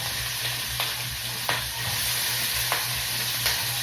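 Pork sautéing in a pan for a vegetable stir fry, a constant close sizzle punctuated by periodic scraping stirs, with a low hum underneath and no talk.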